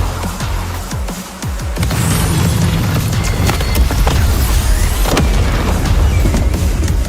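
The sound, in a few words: explosions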